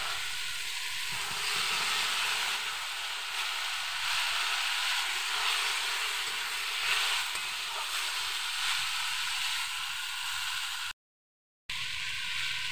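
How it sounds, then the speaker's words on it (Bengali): Papaya and potato pieces sizzling in spiced oil as they are stirred, a loud continuous hissing fry that holds steady throughout, broken only by a brief gap near the end. "এখানে আমি পেঁপে আলুগুলো দিয়ে ভালো করে নাড়াচাড়া করে নেব।"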